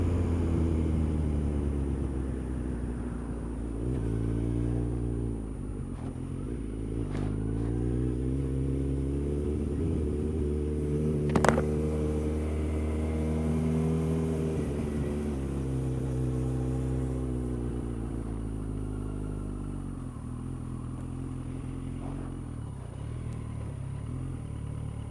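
A motorcycle engine idles and revs steadily nearby outside a large hardware shop, its low harmonic drone rising and falling in pitch over about twenty-five seconds, with one brief sharp clank partway through.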